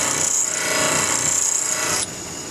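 A bench grinder shapes a high-speed steel lathe threading tool bit with a steady, harsh, close grinding hiss that holds for about two seconds, then drops to a quieter spin-down.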